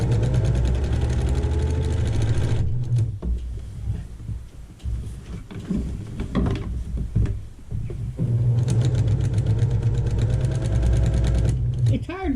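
Sewing machine running a quarter-inch seam on a quilt border, a loud close motor hum with rapid stitching that pauses midway amid fabric handling, then resumes steadily.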